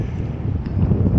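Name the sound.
wind blowing at a boat slip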